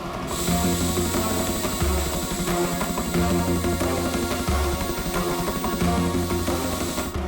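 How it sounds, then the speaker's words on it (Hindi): A drone descends to land, giving off a steady, loud motorized buzz with a sustained high whine that holds through the whole stretch, its pitch shifting slightly in low steps. "वो ड्रोन लैंड कर रहा है।"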